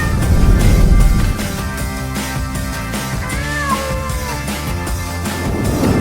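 A cat meows a few times beside an automatic dual pet food feeder, the thin wavering calls sitting over steady background music.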